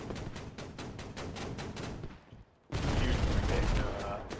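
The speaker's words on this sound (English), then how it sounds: "Here, yeah, here comes the airstrike." Video game gunfire rattles in a fast burst, drops to a brief lull, then an airstrike hits with a loud, rumbling barrage of explosions that keeps roaring to the end.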